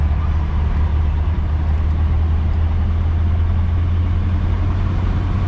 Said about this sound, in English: This car starts and idles really easy,